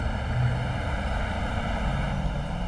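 Embraer Phenom jet engine spooling in a flight simulator, a loud steady whining hum that holds constant throughout.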